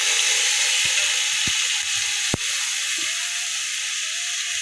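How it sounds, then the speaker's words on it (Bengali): Spice paste with nigella seeds sizzles steadily in hot oil in a pan, with a bright continuous hiss and a few sharp clacks from a spoon against the pan. "মশলাটা ভালো করে ভাজা ভাজা করবো"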